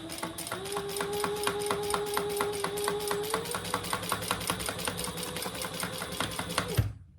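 A sewing machine stitches over a leather wallet flap in a rapid, even mechanical chatter of needle strokes, close and continuous for about seven seconds before stopping abruptly, with no speech.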